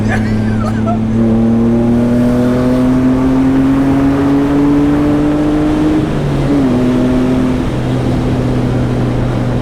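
A tuned BMW E30 accelerates hard. Its engine drone climbs steadily in pitch for several seconds, dips briefly as it shifts, then pulls on, loud and close throughout.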